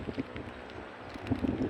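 Wind gusts over shallow water where someone waits in a boat while fishing, steady rushing microphone buffeting with faint splashes and knocks, no voices.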